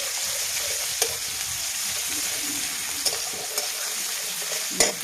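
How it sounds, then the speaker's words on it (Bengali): Garlic paste frying with browned onions in a pan: a steady loud sizzle close up, broken by a few sharp spoon scrapes and taps against the pan, with no voices. "রসুন বাটা দিলাম।"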